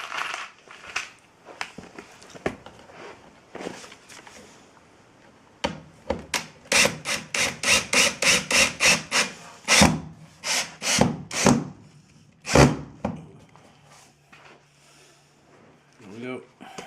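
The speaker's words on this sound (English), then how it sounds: "So the first screws I was using were not sinking into the board" Screws driven into thin wooden backer board for a fireplace hearth: a quick series of rhythmic grinding, scraping pulses from a power driver, loud and close, with a few separate bursts and quiet handling noises between.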